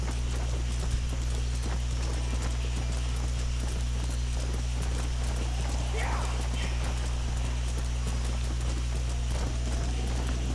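Horse hooves clip-clop steadily on a path in the Red Dead Redemption video game, a continuous rhythmic walking beat heard alongside a low game soundtrack hum, with a brief whinny partway through.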